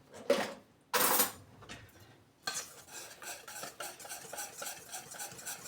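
A wire whisk works through a wafer filling mixture in a bowl: two loud scraping knocks, then steady quick rhythmic clinking and stirring against the bowl, close and fairly quiet, with no talking.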